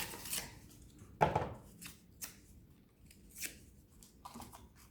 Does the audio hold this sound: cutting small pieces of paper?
yes